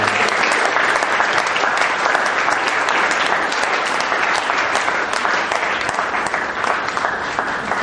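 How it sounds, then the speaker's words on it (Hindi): Audience applause after a classical Indian music concert performance, a dense, sustained burst of loud clapping from a large crowd that continues steadily from start to finish. "आपके तालियों के संगीत बहुत जोरदार है"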